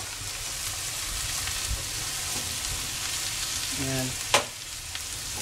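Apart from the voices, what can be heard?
bagnet pork sizzling while sautéed for monggo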